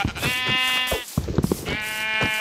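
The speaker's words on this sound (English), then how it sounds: "oh sheep, good" Sheep in the Minecraft survival game bleat twice in long wavering calls, loud and close, with a few short thumping clicks between them.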